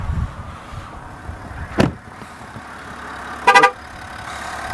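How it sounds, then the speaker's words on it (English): A 2021 GMC Sierra AT4 diesel pickup's horn chirps in a quick double beep, preceded by a single short thud, over a low idling engine rumble. "Oh, it's gonna beep at me."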